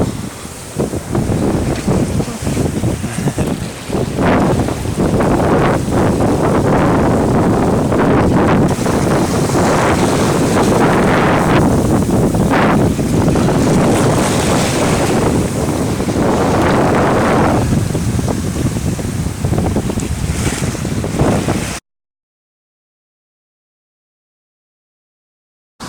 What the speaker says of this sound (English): It's blowing about 15 to 20. Wind at her back.